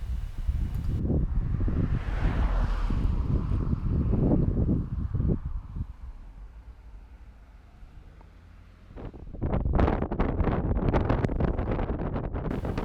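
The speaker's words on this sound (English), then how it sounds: "It's incredibly windy." Strong wind roars and buffets the microphone in heavy gusts at Great Point Beach, Nantucket, in early spring, easing briefly midway before rushing back loudly; no voices.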